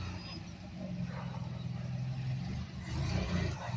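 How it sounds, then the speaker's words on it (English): An MGB car being driven from the garage into a paint booth, its engine a steady mid-pitched hum at moderate distance, rising slightly toward the end. "We're gonna drive the car around from the garage out into the paint booth"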